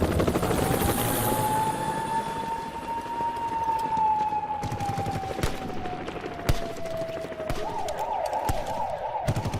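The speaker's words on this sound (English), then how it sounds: "Be aware of how the sound of the helicopter accelerates away as the incoming police siren rises in pitch" Film sound effects for the SWAT movie: a loud helicopter roars and accelerates away while a police siren rises in pitch and then switches to a fast wail, with sharp gunfire-like cracks scattered through the mix.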